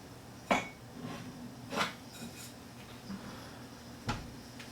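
Dishes and cookware clinking sparsely in a condo kitchen while a bowl is hunted for, with a few separate clacks spread across a quiet room.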